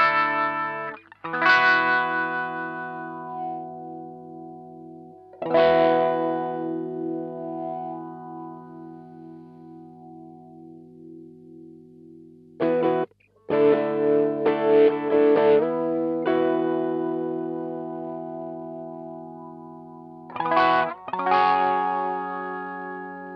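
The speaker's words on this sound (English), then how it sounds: "I'm just going to sweep through that frequency and show you the sort of different sounds you can" Electric guitar through an Electro Harmonix Cock Fight wah and fuzz, sustained distorted chords with the wah frequency slowly swept, several fresh strums with pauses between, loud and alone.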